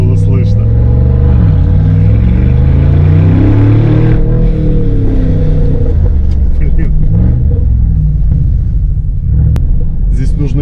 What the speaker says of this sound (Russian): Давайте окно откроем, чтобы было слышно.